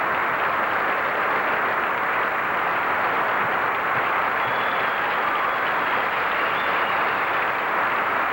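A 1983 national gymnastics championship crowd applauds a routine, with dense, steady clapping filling the arena at an even loudness throughout.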